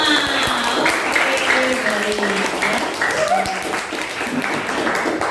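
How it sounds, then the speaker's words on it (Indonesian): Classroom of students applauds after group presentations, a busy spread of clapping that fills the moment while a teacher's voice carries over the top. "Tepuk tangan untuk kita semua."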